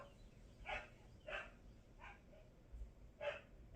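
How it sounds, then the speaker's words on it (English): A dog barks indoors at moderate distance, four sharp separate barks spaced irregularly over a few seconds against a quiet room hum. "My mother is fussing at my dog because he's being a nuisance."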